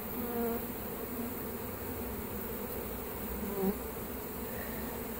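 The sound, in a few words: honeybees buzzing around a hive cut-out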